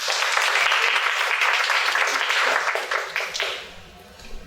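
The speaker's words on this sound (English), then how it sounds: "Please give her a round of applause to welcome." Audience applause welcoming a speaker at a university talk on learning advising: a full burst of clapping that holds steady, then thins out and fades away toward the end.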